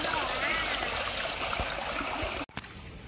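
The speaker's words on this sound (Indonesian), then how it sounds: "Kita kuras pembuangan airnya ke sini berarti ya." Water drains steadily from a small catfish pond in a continuous rushing, trickling flow close by, ending in a sudden brief cutoff, with a voice speaking over it.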